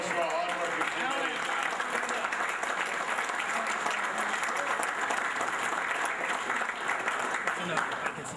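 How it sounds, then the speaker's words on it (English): A crowd applauds the organizing committee at a community golf outing banquet, with dense, steady clapping throughout, loud and close, and a few indistinct voices beneath it. "Let's give a round of applause for our hardworking committee."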